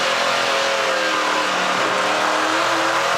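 A NASCAR Pinty's Series race car heard from onboard at the Clarington 200 gives a loud, continuous engine roar at high revs that stays steady and close throughout.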